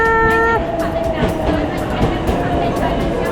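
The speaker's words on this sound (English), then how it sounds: "Train is here!" A train rumbles into a station in Japan with a brief horn-like tone at the start, rolling noise and clatter filling the platform while people talk nearby.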